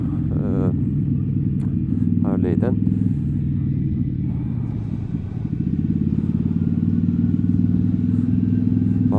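A motorcycle riding on a road, its engine rumbling steadily with a few revving changes in pitch, while a rider talks over it throughout.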